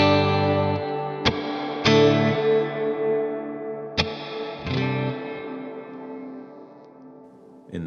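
Electric guitar chords run through a Walrus Audio R1 reverb pedal in X mode with stereo width adjusted, several strummed chords blooming into long washy reverb tails, close and clear with no talking.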